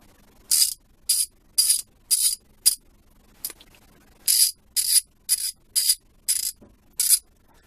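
Kobalt 3/8 ratchet clicking in short rapid bursts, about a dozen crisp close buzzing ratchet runs separated by brief pauses, quiet in between, no talking.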